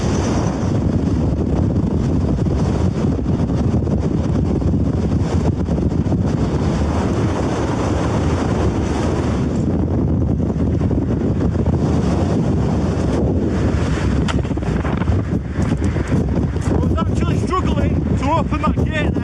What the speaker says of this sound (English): The wind is getting stronger and stronger as we're getting higher.